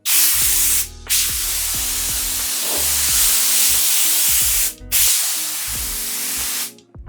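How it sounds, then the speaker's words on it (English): Compressed air bursts from a nozzle across a plywood desktop surface, loud, close hissing blasts with two short pauses, while a low mechanical hum and clicks run underneath. "So you can take an air nozzle or some rags, wipe off the surface, make sure it's free of debris."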